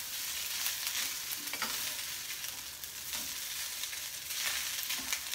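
Ingredients for a four-bean vegan chilli fry and brown in a pan, giving a steady close sizzle with occasional stirring scrapes and no talking.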